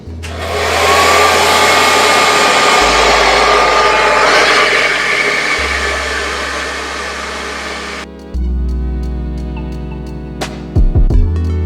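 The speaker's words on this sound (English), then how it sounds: "I usually use the blow dryer on either medium or high heat" A blow dryer runs steadily on medium heat while drying and straightening natural hair, its loud continuous whoosh broken by a brief pause near the end and a few brushing clicks and knocks.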